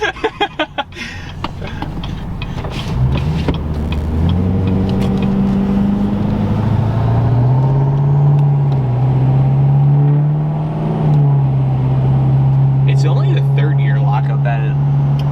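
A Duramax L5P diesel pickup truck engine revs and pulls hard under acceleration, a loud, throaty, sustained drone that climbs in pitch through shifts. People talk over it.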